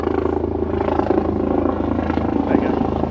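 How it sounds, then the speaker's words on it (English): A Coast Guard helicopter passes overhead near a superyacht marina, a steady low rotor drone with a rhythmic thrum running continuously at moderate loudness beneath background noise. "So there's a Coast Guard helicopter going."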